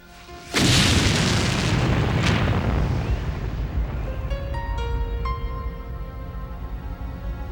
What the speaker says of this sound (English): She flipped the latch and lifted the lid, triggering a fatal explosion.